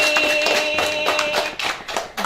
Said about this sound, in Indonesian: Tepuk tangan dulu dong buat Mbak Emi.